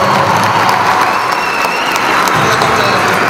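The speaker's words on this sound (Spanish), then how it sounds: "Un aplauso" Audience applause filling a sports hall at a concert, dense continuous clapping with crowd noise, loud and sustained throughout with no break.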